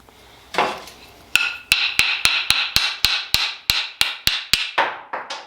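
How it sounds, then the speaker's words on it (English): A hammer knocks a stuck metal plug out of an annular cutter on an Evolution S28MAG magnetic drill. About a dozen sharp, ringing metallic blows land close up in an even, fairly quick rhythm, and each one decays briefly. "I've had to go hammer out the first one"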